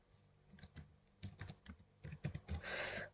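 Typing on a computer keyboard while writing Solidity code for an ERC-20 token contract. Uneven bursts of key clicks run for about three seconds, growing denser and louder toward the end, with no voices.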